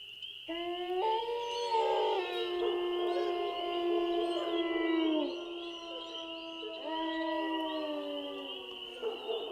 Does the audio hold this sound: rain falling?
no